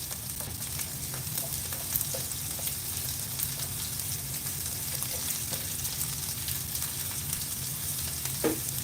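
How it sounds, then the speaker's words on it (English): Onions sauteing in a pan, giving a steady, moderate sizzle and hiss with faint crackles. It continues evenly throughout with no talking. "So at this point, I'm just sauteing the onions."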